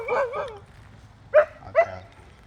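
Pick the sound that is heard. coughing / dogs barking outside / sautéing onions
dogs barking outside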